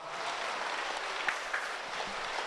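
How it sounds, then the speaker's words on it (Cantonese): Steady applause from a crowd, a dense wash of clapping that holds at an even level throughout with no voices standing out. "我哋俾啲掌聲俾盧德泰老師，好唔好啊"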